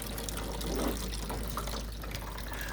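Water rushing and splashing as a calcium- and sand-clogged hot water tank is flushed and drained, a steady close gurgling flow with no voices.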